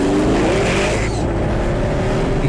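A Pagani Huayra's AMG-sourced 6.0-liter twin-turbo V12 roars loudly up close, its engine note climbing steadily and then holding a strong, continuous drone.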